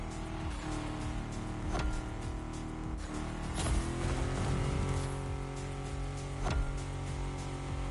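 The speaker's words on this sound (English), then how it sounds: "Racing on the beach in my Camaro." An off-road Camaro races across a beach in The Crew Motorfest, its engine droning steadily with repeated sharp bumps and impacts as it bounces over rough ground.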